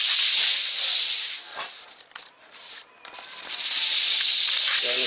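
A Fakir steam mop from Bim hissing as it cleans, a loud close steady rush of steam that dips and sputters in the middle before surging back to a strong continuous hiss.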